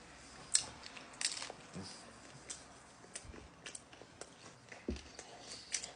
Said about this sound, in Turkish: İnşallah yiyebilirim böyle ısırıp açılmaz.